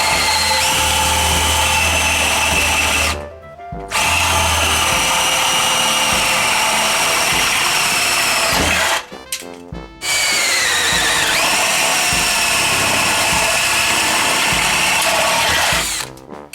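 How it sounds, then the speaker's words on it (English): A power drill with a 3/4 inch spade bit bores through a Larson storm door, whining loud and steady in two long runs broken by short pauses, its pitch shifting slightly as the bit cuts. "Take the 3/4 inch spade bit and go into the pilot hole and drill."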